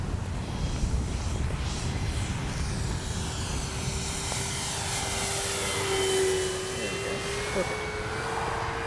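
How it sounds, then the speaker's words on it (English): FMS P-47 Thunderbolt RC model warbird passes by in a flyby, its engine tone rising and sweeping overhead against outdoor wind noise, while people talk nearby. "I'll just do a nice flyby."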